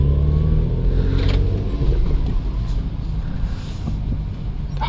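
A manual BMW E93 335i convertible with its twin-turbo engine accelerates on a cold day, a steady, loud mid-pitched engine drone with rising revs, road and wind noise filling the whole stretch.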